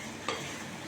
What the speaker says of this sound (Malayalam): എന്നിട്ട് നന്നായിട്ടൊന്ന് ഇളക്കുക.